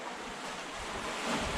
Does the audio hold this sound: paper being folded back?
no